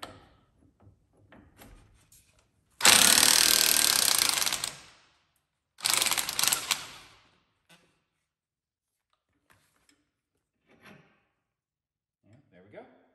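A ratchet spins a 13/16 lower rear shock bolt off a C7 Corvette with magnetic ride, producing two loud buzzing bursts of about two seconds and one second, separated by quiet, with faint clicks and handling noises around them.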